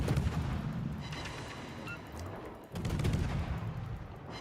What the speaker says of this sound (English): I will spam my cannons.